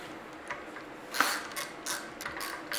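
Ratchet clicks while torquing the ring gear bolts on a Dana 30 axle carrier, a few quick bursts of rapid pawl clicking, faint and close.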